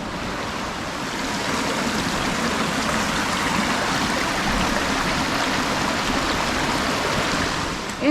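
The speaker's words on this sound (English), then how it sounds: "So we're crossing the river here" River water flows steadily on a hiking trail crossing on São Miguel in the Azores, a continuous broadband rush heard up close with no talking.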